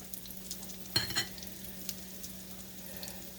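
Potato patties made from leftover hash browns fry quietly in a pan, a soft, steady sizzle broken by a brief clatter early on.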